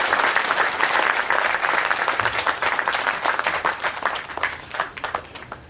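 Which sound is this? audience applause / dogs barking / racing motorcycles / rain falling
audience applause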